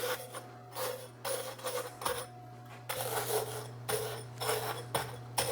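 Crackers are crushed finely for the bottom layer of 7-layer bars, making a series of close, quiet crunching and rasping bursts in an uneven rhythm over a low steady hum.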